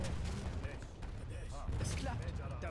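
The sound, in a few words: gunshot in the video game Age of Empires III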